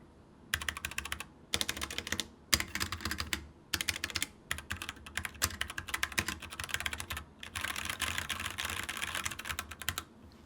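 Rapid typing on a mechanical keyboard with Gateron switches and a top metal deck, slightly hollow-sounding, comes in dense bursts of clacks separated by brief pauses, close and clear with no talking.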